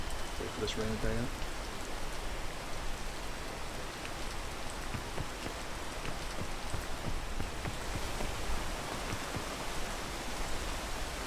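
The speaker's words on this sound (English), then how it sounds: "Wait for this rain to die out." Rain in the video game PEAK falls as a steady, soft hiss with faint scattered drops, quiet and unbroken throughout.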